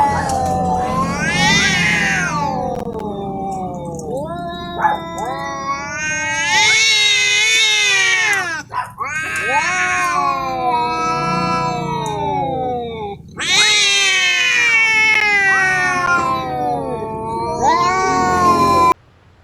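A cat meows repeatedly in long, wailing, drawn-out cries that rise and fall, loud and close, with brief gaps between calls and no talking.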